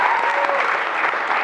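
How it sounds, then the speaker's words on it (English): A talent show audience gives a short, loud round of dense applause, steady throughout with no break. "Let's give them all a big round of applause"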